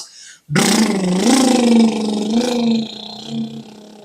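A voice imitates a motorbike horn with a loud, close, steady buzzing tone held for a few seconds, wavering slightly before trailing off with a brief final swell.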